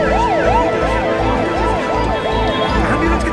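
An ambulance siren wails in a steady rising-and-falling cycle, loud and continuous over low traffic rumble and engine noise on a road.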